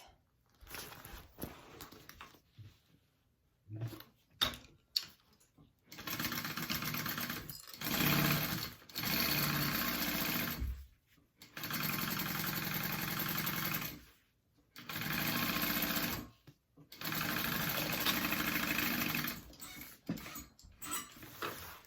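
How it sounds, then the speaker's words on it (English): A sewing machine stitches a handbag seam at a 3/8 inch allowance, running in several loud, steady whirring bursts separated by short pauses and quiet fabric handling. "And then you're gonna sew that on at a 3/8 inch seam allowance."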